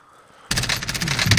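Sudden burst of rapid gunfire in a shooter video game, starting after a quiet half second and continuing as dense, loud, overlapping shots.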